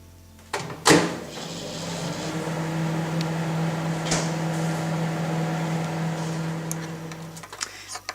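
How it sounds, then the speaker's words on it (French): A microwave oven melting soap base, with a door click and start beep followed by a steady close hum that runs for several seconds before stopping, no talk. "Il ne reste plus qu'à le passer au micro-ondes tout à l'heure, bien surveiller qu'il ne bout pas, le faire fondre"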